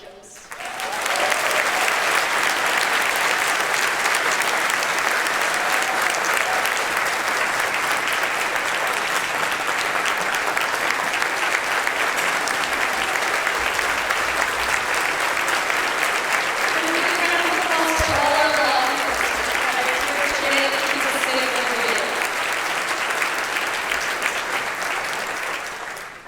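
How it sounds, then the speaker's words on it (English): A long, warm round of audience applause at the Harris County State of the County address, sustained and evenly loud for more than twenty seconds with a few faint cheers near the end before fading. "let's all give a warm round of applause to Constable Precinct 1, Deputy Sheila Jones."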